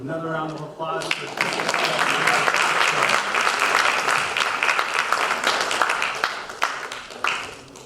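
A brief voice gives way to a full burst of audience applause at a storytelling night, loud continuous clapping from many people that holds for several seconds and then begins to fade.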